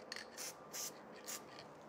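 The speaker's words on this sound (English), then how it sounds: "spray lightly the back of your stencil" Faint, quiet spray adhesive bursts hiss in short puffs onto the back of a wall stencil, three or four brief sprays separated by soft rubbing pauses, close up.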